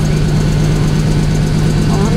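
A Ford F-150 pickup's engine idles with a steady, deep, slightly knocking rumble, close and loud, while people talk over it.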